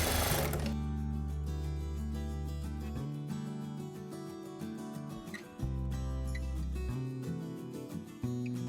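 A sewing machine runs steadily while stitching the corner of a lightweight saree, its motor hum continuous and close with brief shifts in pace, no voices present.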